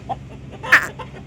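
A 4 kg kaki rooster clucks nearby, giving a few short, throaty clucks with one louder burst near the middle against a faint background.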